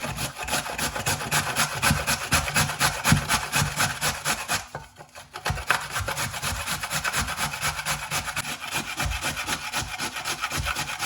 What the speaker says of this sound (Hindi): हम इनको काटना नहीं, इनका कद्दूकश करेंगे।